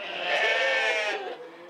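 A Jacob sheep, a conserved heritage breed kept neither for meat nor wool, gives a single drawn-out bleat lasting over a second, close and clear, wavering slightly before trailing off, with no other sounds around it.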